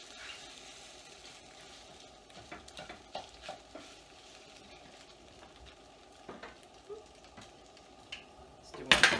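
Eggs for breakfast tacos cook in a pan with a soft, low sizzle and occasional stirring and scraping, and louder clatter of the pan at the end.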